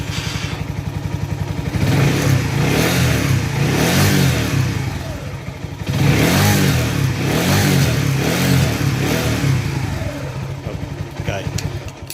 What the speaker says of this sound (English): Right, let's start the bike up.